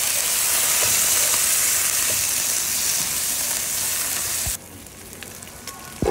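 Marinated pork hits a hot pan already sautéing garlic and onion, giving a loud, steady, close hiss of frying that drops off sharply near the end, leaving quieter crackles.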